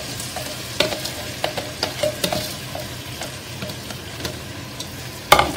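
Mixed vegetables sauté with salt in a hot pan, a steady sizzle broken by repeated scraping stirs and light spoon clacks, ending in a louder clank.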